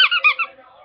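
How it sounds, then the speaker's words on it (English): Squeaky toy squeezed several times in quick succession, sharp close squeaks that trail off into a fainter squeal. "Squeaky toy."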